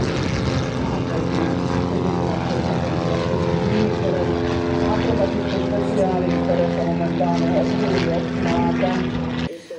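A Čmelák propeller aircraft runs at Holíč airfield during an open day, a loud, steady droning engine and propeller tone held close throughout and cutting off abruptly at the end.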